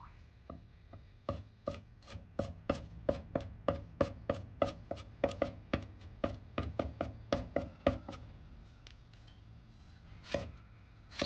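Garlic and a small piece of ginger are chopped with a knife on a board: about thirty crisp, rapid strikes in a steady rhythm, then a short pause and a final chop, with no talking.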